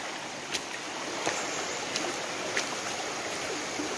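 A small stream flowing toward a river near Alue Kureng waterfall in Aceh, a steady broadband wash of running water with a few faint clicks and splashes, continuous and fairly close, no voices.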